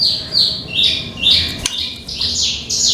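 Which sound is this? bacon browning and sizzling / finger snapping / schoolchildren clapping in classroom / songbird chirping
songbird chirping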